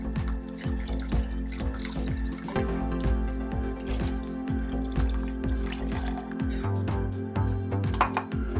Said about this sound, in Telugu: ఇప్పుడు దీంట్లోనూ చింతపండు పులుసు యాడ్ చేసుకోవాలండి